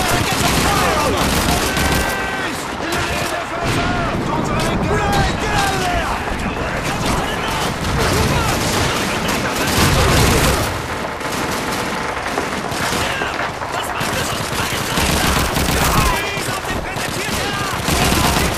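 Call of Duty 2 combat: near-continuous rifle and machine gun fire with heavy bursts and explosions fills the whole stretch, loud and dense, with shouting soldiers' voices mixed in.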